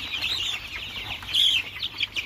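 Local chicken chicks cheep in a brooder crowded with more than 800 birds, a dense, continuous chorus of shrill peeping at moderate volume with no talking.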